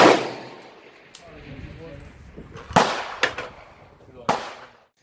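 Rifle fitted with a red dot sight fired at a shooting range, several sharp loud shots spaced irregularly with lingering echoes and a brief voice between them.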